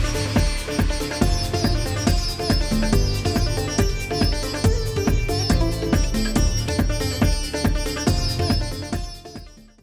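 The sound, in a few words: clubby electronic fusion track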